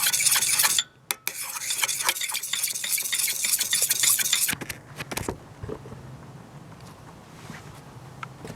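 Match-head powder mixed into a liquid is stirred with scraping, rubbing strokes, busy and close for a few seconds before tapering into quieter, sparse scrapes.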